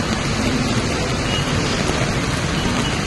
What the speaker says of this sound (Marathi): पाऊस एवढा पडतोय.